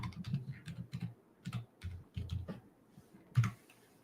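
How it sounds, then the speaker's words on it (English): Close, fairly quiet typing on a computer keyboard, with quick bursts of key clicks in an uneven rhythm, brief pauses, and a final louder keystroke. "there's some FBI analyst that's just memorized my keyboard strokes just by the sound of them"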